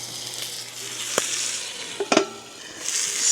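Steak frying on its side on an outdoor grill or pan, a steady soft sizzle with a few brief clinks and scrapes of utensils against the cookware, no voices.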